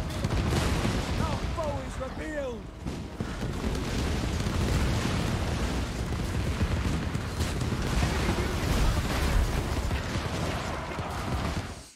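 Continuous rumbling blasts and explosive bursts from explosive charges detonating in Total War: Warhammer II, dense and loud throughout, with a voice speaking briefly near the start.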